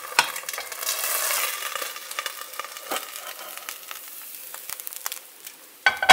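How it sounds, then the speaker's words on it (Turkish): Potato and cheese frying in a pan, a crisp sizzle with light stirring and scraping, strongest early then thinning into scattered crackles, with a utensil clatter near the end. "Sonrasında diğer tarafını da kızartıp"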